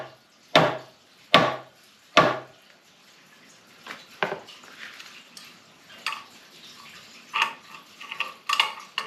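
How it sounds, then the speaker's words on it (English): Wood splitting under tension while a flywheel is being removed: three sharp, loud cracks in quick succession, followed by fainter scattered creaks and snaps, with no talking. "There's the wood beginning to split now, I hear it."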